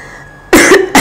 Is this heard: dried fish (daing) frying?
no